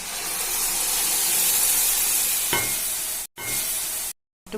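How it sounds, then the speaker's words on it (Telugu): Tomato puree hits a hot frying pan for a tomato paneer curry, giving a steady loud sizzle and hiss that fills the clip, with a brief stir around the middle and two short dropouts near the end. "ఇప్పుడు టమాటా ప్యూరీని దీంట్లో వేసుకుందాం"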